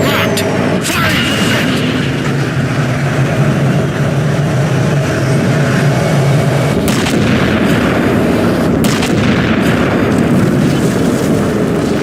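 A ship's weapon fires at a target in the Halo 4 video game: loud, sustained rumbling barrage with heavy booming blasts rising out of the roar.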